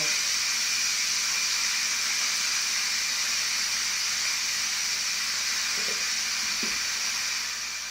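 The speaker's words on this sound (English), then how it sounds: "we want to quickly release the pressure after it goes off" Steam hisses out of an Instant Pot during a quick pressure release after cooking a sweet potato stew. A continuous, even hiss runs alone throughout and fades slightly at the end.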